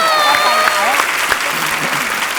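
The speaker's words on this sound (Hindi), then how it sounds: "जोरदार ताली हो जाए विद्या जी की।" A TV studio audience at The Kapil Sharma Show claps steadily for actress Vidya Balan while the host's voice carries over the applause, with a few cheers rising from the crowd.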